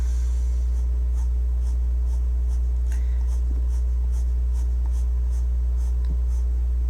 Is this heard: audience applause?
no